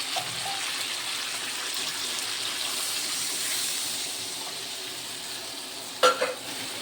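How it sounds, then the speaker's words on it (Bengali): Water hits a pan of spiced potato and eggplant and sets off a steady hissing sizzle and bubbling that stays even until a sharp clatter near the end. "এবার আমি জল দিয়ে দেব"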